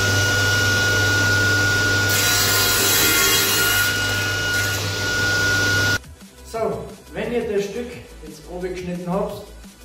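A circular saw cutting wood into small 2 cm pieces makes a steady, loud whining drone for several seconds, then stops and a person talks over quieter workshop noise.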